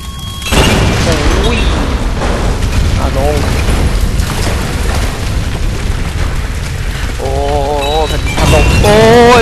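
A sudden loud boom from an exploding barrel in Tomb Raider opens into a long, heavy rumbling roar, with a voice and electronic effect tones rising over it later.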